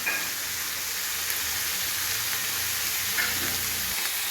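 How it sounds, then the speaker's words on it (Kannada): Capsicum fries in oil for a palya, giving a continuous close hiss of sizzling that holds at an even level throughout. "ಕ್ಯಾಪ್ಸಿಕಮ್ ಚೆನ್ನಾಗಿ ಎಣ್ಣೆಯಲ್ಲಿ ಫ್ರೈ ಮಾಡ್ಕೊತಾ ಇದ್ದೀನಿ"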